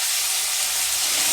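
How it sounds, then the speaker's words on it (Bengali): Chopped onion, tomato and green chilli fry gently in hot oil in a kadai for upma, a steady close sizzling hiss that runs without a break and with no talking. "পেঁয়াজ আর টমেটোটা হালকা করে ভেজে নেব"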